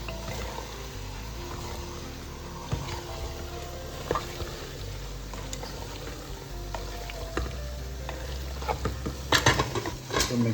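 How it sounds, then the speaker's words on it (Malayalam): Beef pieces mixed into masala in a pressure cooker while making beef biryani, with soft steady stirring and scraping plus a few sharper clinks of utensil on pot near the end, fairly quiet with no talk. "ഇനി ഇതിനെ ജസ്റ്റ് ഒന്ന് മിക്സ് ചെയ്ത് കൊടുക്കാം കേട്ടോ."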